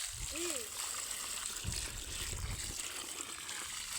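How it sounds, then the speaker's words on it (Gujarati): Water splashes and gushes steadily into a container, with a short bird-like whistle at the start and faint background noise throughout. "હાલો આપણે પાણી નાખી દઈએ"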